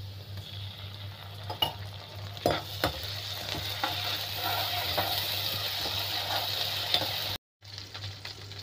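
Ginger garlic paste frying with green chillies and vegetables for a lotus stem, cucumber and potato sabzi, a steady loud sizzle with scattered scraping stirs and clinks of a spoon throughout.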